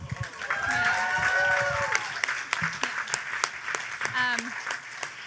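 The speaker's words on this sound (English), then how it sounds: "Another round of applause because they put that together in 2 days." Audience applauding at a science night event, a crowd's clapping rising under a lively room with voices and a few shouts or whoops over it, then thinning into scattered claps.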